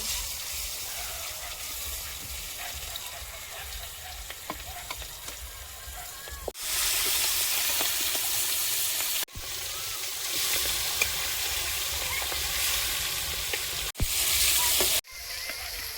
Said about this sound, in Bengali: তেল গরম হয়েছে মাছগুলো দেব